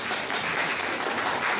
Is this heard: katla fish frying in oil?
no